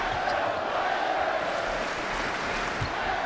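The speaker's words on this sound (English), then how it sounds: "Crowd getting into it." A steady, dense roar from the basketball arena crowd at a 2010-11 NBA game between the Portland Trail Blazers and the Miami Heat, holding at an even level for the whole stretch.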